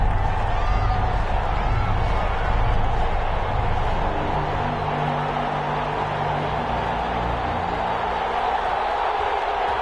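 Stadium crowd noise from an EA Sports NFL football video game, Saints versus Vikings, a steady loud roar of cheering fans filling the whole stretch without letup.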